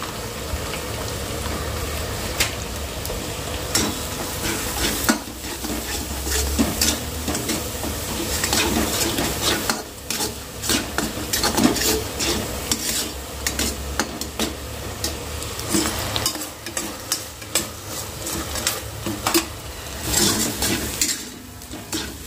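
Masala paste sizzles and fries in oil in a home kitchen during Holi festival cooking, with steady crackling and repeated scraping stirs of a spoon against the pan. The sound continues close and fairly loud throughout.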